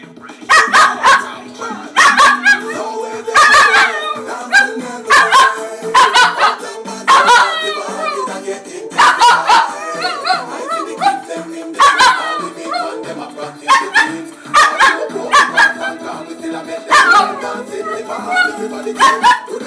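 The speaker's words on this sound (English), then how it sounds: "This is the dog singing." A dog howls and yelps in repeated bursts over loud reggae dancehall music, its voice rising and falling in short rhythmic phrases throughout.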